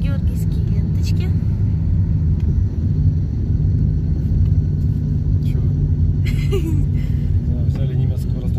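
A battered old German car drives along, its engine and road noise forming a loud, continuous low rumble throughout, with faint voices inside.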